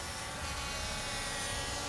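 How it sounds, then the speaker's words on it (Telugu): A Skyhawk toy drone hovers close by, its rotors giving a steady, even buzzing whir that stays constant throughout with no voices. "సో ఈ డ్రోన్ అయితే ఇలా ఎగురుతుంది."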